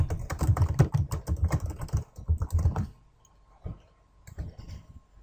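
Rapid typing on a computer keyboard while entering text in Autodesk Inventor, dense close clicks for about three seconds, then a few sparse keystrokes in near silence.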